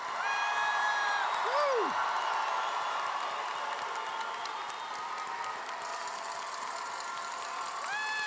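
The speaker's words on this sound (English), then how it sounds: "Please join me in this loud round of applause for them." Graduation audience at a university commencement for psychology and social work graduates, applauding in a steady, dense wash, with one loud whoop near the start and a voice speaking over it.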